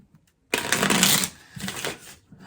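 Tarot cards being shuffled close up, a quick riffling burst followed by a second shorter shuffle, crisp and rapid.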